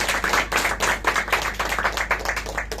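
An audience claps during a church sermon: a room full of hands beats in uneven, lively bursts, fairly close, with no talking over it.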